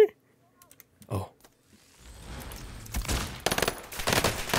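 Rapid bursts of SMG gunfire with a burst barrel in the video game Warzone, building into dense clattering volleys after a quiet start with a short voice and faint mechanical clicks.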